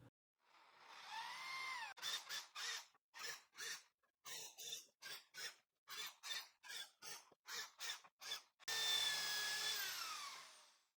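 A power drill countersinks holes in wooden boards, running in a quick series of short whirring bursts, then one longer steady spin at the end. Close and fairly loud, with no talking.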